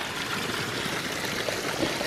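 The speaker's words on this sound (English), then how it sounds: "got the water flowing back in here pretty strong" Water from a creek after a flood spills steadily over a small rock waterfall, producing a continuous close rushing and trickling wash with no other sounds.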